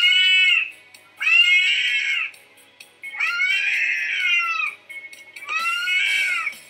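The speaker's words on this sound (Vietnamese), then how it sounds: "trên màn hình chúng ta sẽ được chiêm ngưỡng một chú mèo, và chú mèo này đang rất là cross" A cat meows four times in long, drawn-out, strained cries separated by short pauses, close and loud with no other sound.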